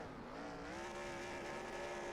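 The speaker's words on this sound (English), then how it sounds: "Doing some burnouts here on the front straightaway." A race car in an oval-racing video game at Talladega does burnouts on the front straightaway, its engine holding a steady, droning whine with a faint tire squeal under it, fairly quiet and continuous.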